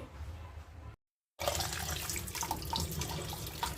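Running tap water splashes over about five kilograms of tomatoes being washed, a steady close gush that cuts out briefly and then returns louder, with no voices.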